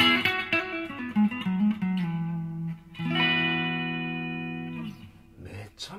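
Clean open chords ring out on an ESP Horizon-CTM electric guitar with a mahogany body, maple top, neck-through construction and ebony fingerboard, played on the front pickup. A few strums ring out and sustain, each decaying before the next, close and unaccompanied.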